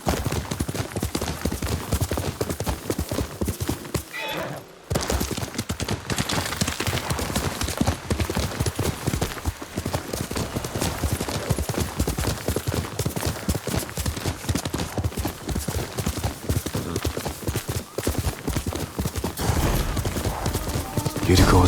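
Horse hooves clip-clop at a steady gallop in the Ghost of Tsushima video game, loud and continuous with a brief break near the start and scattered game effects layered over the pounding rhythm.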